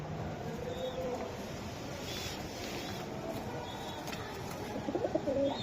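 Budapest racer pigeons coo softly in a low, throaty murmur, with a few faint chirps over a quiet, steady background and a slightly busier burst near the end.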